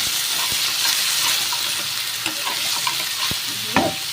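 Tomato pieces with ginger and cumin paste sizzle steadily in a hot pan while being stirred, with a few sharp clinks of the spoon against the pan.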